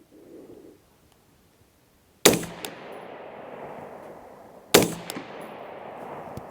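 A SOLGW MK1 rifle firing Hornady 75 grain match rounds outdoors, two sharp loud shots a few seconds apart, each ringing out into a long fading echo, with faint birdsong before the first.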